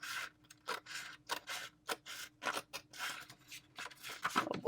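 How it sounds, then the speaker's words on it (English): Sharp, fancy scissors cut through paper in a straight line, a close, quiet series of about a dozen crisp snips at an uneven, careful pace with short pauses between strokes, heard alone. "These are like super sharp fancy scissors. I love them. I'm gonna do my best to cut in a straight line."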